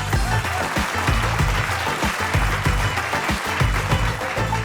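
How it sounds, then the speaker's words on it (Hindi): Audience applause greeting actress Huma Qureshi onstage, a dense wash of clapping over rhythmic low music pulses that run steadily beneath it the whole time. "जोरदार तालियों के साथ स्वागत कीजिए कमाल की एक्टर हुमा कुरैशी।"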